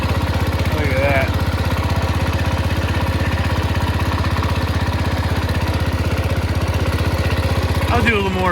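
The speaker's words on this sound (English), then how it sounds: "we got a running tractor" A Cub Cadet lawn tractor engine runs steadily at idle at night, a loud, continuous low throb that holds evenly from start to finish.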